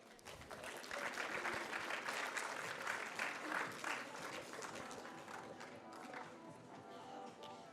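An audience at a city innovation project showcase claps for a team from the French railway company SNCF. The applause swells quickly into a dense crowd sound, holds for several seconds, then thins and fades while a voice talks nearby.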